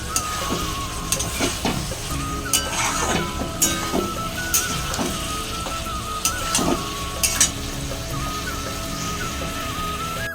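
Spices with ginger-garlic paste, potato and cauliflower sizzle and fry steadily in a pan for egg curry, with a continuous hiss broken by repeated scraping stirs and occasional clinks of the spatula.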